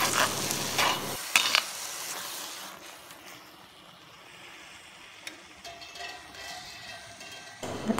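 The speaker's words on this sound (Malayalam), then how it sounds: "ഇനി ചിക്കൻ അതിലേക്ക് ഇടാം." Marinated chicken coated in turmeric and salt drops into a pan of frying tomato masala for a chicken curry, a loud sizzle and clatter at the start that fades to a steady low frying hiss, with no talking.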